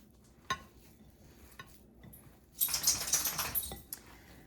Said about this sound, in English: just get in there with your hands and kind of mix everything together